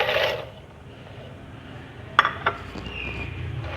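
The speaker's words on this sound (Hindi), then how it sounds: "इसके अंदर अब वनीला एसेंस डालेंगे और मिक्स करेंगे अच्छी तरह" A spoon scrapes and clinks against a pot while biscuits are stirred into a warm chocolate and vanilla essence mixture, giving a couple of sharp metallic taps over soft, low stirring noise.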